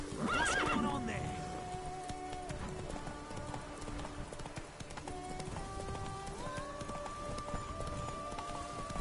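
Roach the horse in The Witcher 3 whinnies loudly at the start, then hooves clip-clop steadily at a run under a layered game soundtrack and ambient noise.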